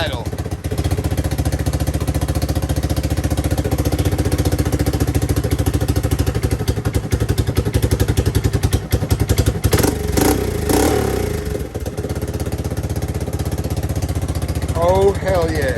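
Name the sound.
ATV engine idling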